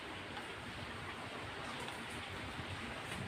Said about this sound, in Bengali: ওই দেখুন জোরে বৃষ্টি নামছে।